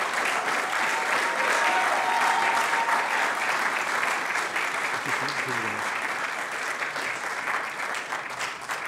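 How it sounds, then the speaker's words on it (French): Sustained applause from an indoor audience honouring boxer Anthony Obame, a champion of Africa and the world, with dense continuous clapping at steady volume throughout. "si on peut l'applaudir"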